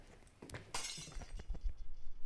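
In the horror game Minds Eyes, glass shatters with a sharp crash and then a brief spill of tinkling shards and small knocks, heard fairly close with no talk over it.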